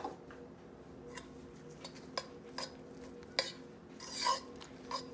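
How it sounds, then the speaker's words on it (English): Utensil scraping and tapping against a bowl while stirring quinoa stuffing with a ginger, key lime and tamarind sauce, in scattered light clinks with a brief swishing burst near the end, close and fairly quiet. "We're gonna stir this all up."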